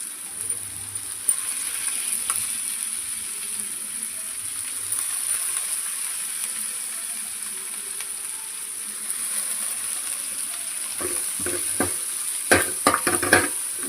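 Curry leaves sizzle in hot oil with grated carrot for egg fried rice, a steady faint crackle under a high hiss, with sharper stirring clatters and pops near the end and no speech.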